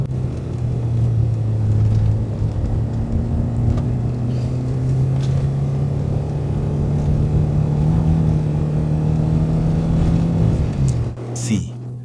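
Inside a 1982 Renault 5 Alpine Turbo Gordini on the move, the engine hums and climbs steadily in pitch under acceleration, then drops off near the end, with road rumble throughout and a voice speaking over it.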